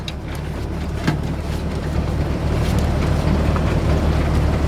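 A 1978 Jeep CJ-5 pulls away as the clutch is let out, its engine a loud, low rumble that builds steadily with wind-like roar over the drive.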